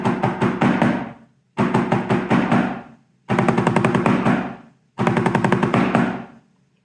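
A snare drum plays an 11-stroke roll rudiment four times, each a crisp, close burst of rapid strokes ending in accented final hits, with short clean silences between.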